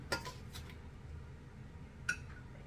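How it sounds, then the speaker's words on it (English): A spoon clinking against a plate while serving watermelon salad, two or three light, brief metallic taps with a quiet pause between them, close and faint. "So we're just going to spoon some of the watermelon salad."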